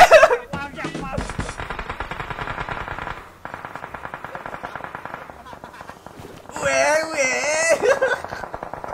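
Rapid automatic gunfire bursts in the mobile battle royale game PUBG Mobile, coming in long rattling strings with brief pauses, while an excited player voice talks and exclaims over and between the shots.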